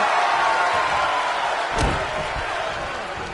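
A wrestler grabs an opponent by the skull and slams him to the mat in the WWE 2K26 wrestling game: one heavy thud lands mid-clip over a steady crowd roar and ringing arena ambience.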